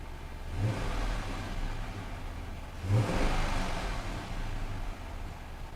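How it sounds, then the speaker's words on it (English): An Audi V8 engine idles with a misfire, a steady close engine rumble with two brief rises in revs and a slightly uneven, pulsing tone throughout. "start her up and see if she's misfiring."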